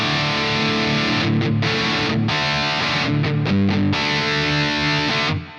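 Heavy, distorted electric guitar through a Mooer Pitch Box detune effect, playing loud sustained power chords with a few short rhythmic breaks before ringing out and fading at the end.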